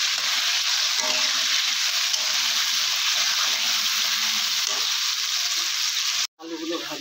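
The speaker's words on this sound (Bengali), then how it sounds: "আলুগুলো ভাজা ভাজা হয়ে গেছে" Potatoes with turmeric and salt fry in a pan, giving a loud, continuous close-up sizzle that cuts off abruptly near the end before faint sizzling resumes.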